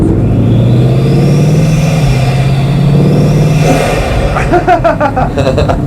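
A Bugatti Mistral's large engine drones loudly and steadily with deep rumbling harmonics, its pitch swelling slightly, before sharper revving pulses break in near the end; voices chatter faintly beneath.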